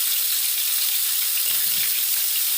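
Eggplant pieces fry in hot oil, making a loud, close, dense hiss with a faint bubbling texture that holds steady for the whole short stretch, with no talking.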